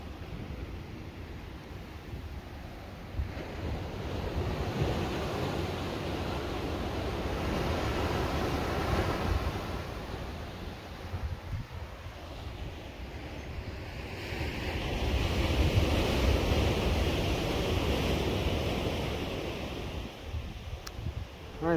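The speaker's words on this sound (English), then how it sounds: "Hopefully that wave sound is coming through really good." Ocean waves breaking on the California coast at Davenport near Panther Beach, a steady roar of surf with wind rumbling against the microphone, swelling louder in the second half.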